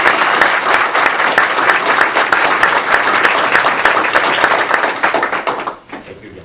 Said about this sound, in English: And one more round of applause for the whole